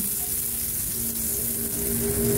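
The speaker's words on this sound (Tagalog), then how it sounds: "Dito sa ating kawali, maglagay lang tayo dito ng butter." Butter sizzling in a home frying pan, a steady close hiss of frying with no break and no voices.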